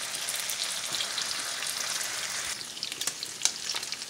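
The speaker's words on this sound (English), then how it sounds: "right now I'm frying up my bacon" Bacon sizzles and crackles steadily in a hot pan, a dense frying hiss with sharper pops toward the end.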